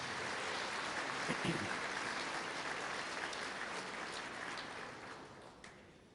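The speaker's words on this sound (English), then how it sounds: "Please give them a round of applause" Sustained applause from a crowd, steady and fairly loud throughout, fading slightly toward the end.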